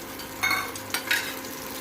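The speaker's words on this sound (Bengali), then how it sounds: "কড়াইয়ে আলুগুলো দিয়ে দিলাম" Potatoes dropped into a kadai give two short bursts of frying and clatter, close and moderately loud, over a low steady background hum.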